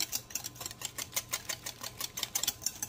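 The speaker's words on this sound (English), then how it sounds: "let's whisk it and see" Peanut butter pie filling is whisked as it thickens, a faint, steady, quick rhythmic clicking and scraping of the whisk against the bowl, about four strokes a second.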